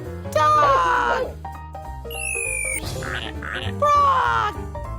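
A toy duck gives a few quacks among bright children's-song music and a cheerful voice, in a surprise-egg animal toy setting.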